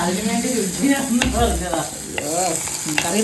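A spoon stirs a Kottayam-style Malayali red fish curry with tuna and chili in a hot pan, giving close scraping and sloshing over a constant steady sizzle, with no talking.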